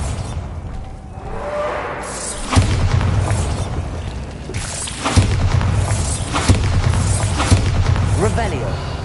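Several booming spell explosions from the Bombarda curse in Hogwarts Legacy burst out one after another over a dense, rumbling game soundscape, each blast loud and sharp-edged.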